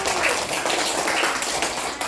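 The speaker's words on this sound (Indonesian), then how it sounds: "Tepuk tangan untuk kelompok buku" Applause from a classroom of students for a group that has just presented, a steady dense patter of many hands clapping at once across the whole moment, fairly loud and close.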